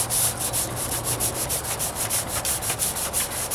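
Hand sanding with sandpaper on the trunk of a 1998 Toyota Corolla, a steady rhythmic scratch of rapid back-and-forth strokes, close and continuous, with no voices.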